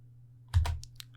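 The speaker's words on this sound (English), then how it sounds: "I'm going to just do this by typing in nano" A few quick computer keyboard keystrokes clustered together, close and fairly quiet over a steady low hum, typed into a terminal text editor on a phone setup.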